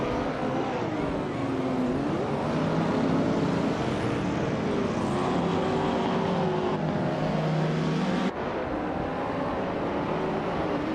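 Engines of racing cars roar off the start line in a racing video game, including a classic 1969 Chevrolet Camaro, a dense continuous revving drone with rising pitch sweeps and gear changes, loud and close throughout.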